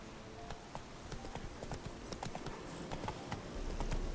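Hooves of a horse in The Witcher 3: Wild Hunt, a steady rhythmic clip-clop of footfalls nearby, moderately loud over a faint game background.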